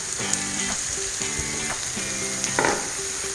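Paneer sizzles in a pan with onions for paneer bhurji, a constant close frying hiss with soft clinks and tonal scraping from stirring.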